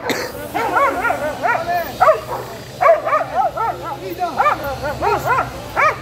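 A seven-month-old dog in a busy market barks and yips repeatedly in quick excited bursts, loud and close, with someone talking over it and a faint bustle behind.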